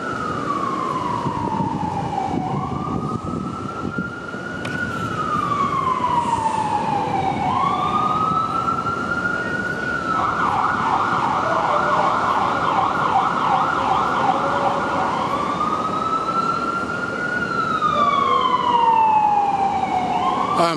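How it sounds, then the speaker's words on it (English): An ambulance siren wails continuously on a New York City street, rising and falling in long sweeps, loud and fairly close over steady street traffic noise. "Ambulance, my peeps."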